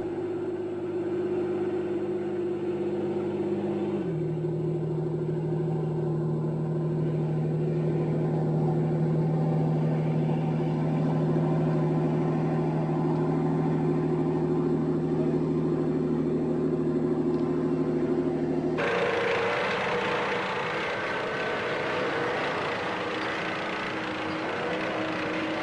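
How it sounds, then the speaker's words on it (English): A Swedish S-tank, an amphibious vehicle with a gas turbine engine, moving through water on its tracks: a steady engine drone that drops in pitch early on, then gives way near the end to a louder broadband rush. "In the water, the tank is propelled and steered by its tracks."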